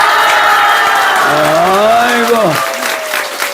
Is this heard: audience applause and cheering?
yes